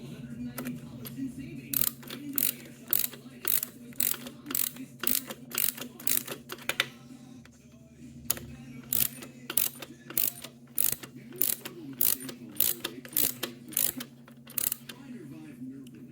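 A ratchet wrench torques down a bolt during a Tecate 4 rebuild, giving bursts of rapid sharp clicks in repeated strokes with short pauses between, close and clear over a low background hum.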